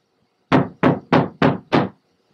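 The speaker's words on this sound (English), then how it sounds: "he pounded hard against the great big oak door" Five heavy, evenly spaced knocks pound against a big oak front door, loud and close, each a deep thud followed by silence.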